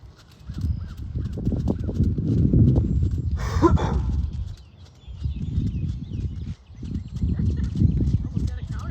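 Horse cantering during a riding clinic, with steady rhythmic hoofbeats throughout at moderate distance, broken by a brief pause, while people talk over it.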